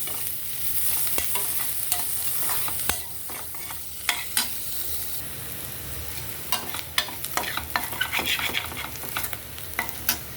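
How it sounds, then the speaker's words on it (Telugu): Green chillies and an onion fry in two spoons of oil, a close, steady sizzle overlaid with repeated spatula scrapes and clanks against the pan, growing busier toward the end. "పచ్చిమిర్చి ఒక ఉల్లిపాయ వేసుకొని ఇది బాగా ఫ్రై చేసుకోవాలి"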